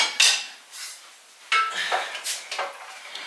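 Pasta is stirred in a pot while cooking for mac and cheese, heard as a few separate metallic clanks and scrapes of a utensil against the pot, close and uneven, with quiet pauses between them.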